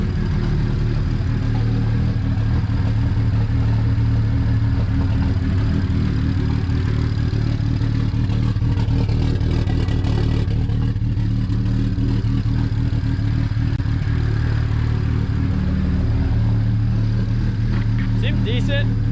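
Modified BMW 335i fitted with a big single turbo idles with a slight lope, a steady low rumble running throughout while people talk over it.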